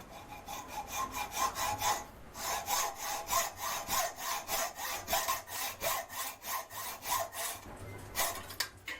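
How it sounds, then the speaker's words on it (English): Hacksaw strokes cut a slot in aluminium in a fast, steady back-and-forth rhythm, each pass a bright rasping scrape, with a brief pause before sawing resumes. "then slot that with a hacksaw"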